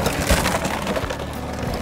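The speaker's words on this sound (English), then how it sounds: "And now we have to tumble it." A compost tumbler bin, set up in a food garden, is turned over, giving a close, continuous rough crunching and rattling of the tumbling contents for a couple of seconds with no talking.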